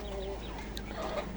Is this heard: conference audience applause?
no